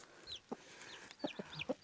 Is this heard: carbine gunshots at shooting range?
no